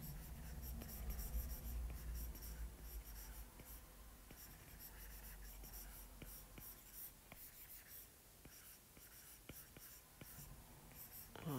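Pencil strokes sketch fluffy fur on paper, a soft continuous scratching with quick repeated short strokes, close and quiet, with faint low room noise underneath.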